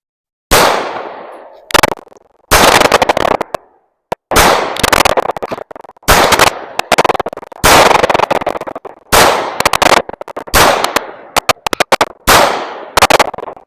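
Gunfire at an outdoor shooting range during a training day: sharp, loud, close shots fired in rapid irregular strings and bursts, with short gaps between volleys and several guns seeming to fire at once.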